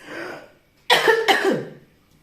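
A short burst of coughing, two harsh throaty coughs close to the microphone, preceded by a brief murmur of voice.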